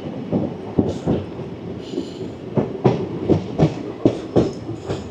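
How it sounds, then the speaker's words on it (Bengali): Passenger train hauled by a WAP7 electric locomotive climbing a ghat section on the Koraput hill line: rhythmic wheel clatter over rail joints with a rumbling, uneven roll, moderately close, no talk. "WAP7 যেহেতু পাওয়ারফুল লোকোমোটিভ, ও একাই গাড়িকে টানছে।"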